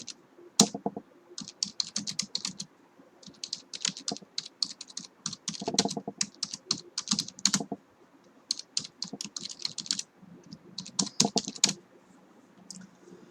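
Someone types a SQL query on a computer keyboard, rapid clicky keystrokes in bursts with short pauses, close and clear with no speech.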